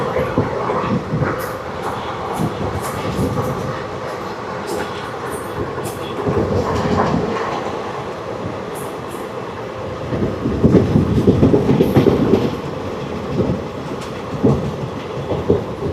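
The 17479 Puri Tirupati Express passenger train runs steadily past, a loud continuous rumble with rhythmic clickety-clack of wheels over rail joints that swells toward the end.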